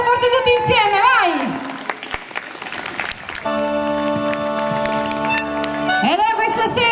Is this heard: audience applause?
yes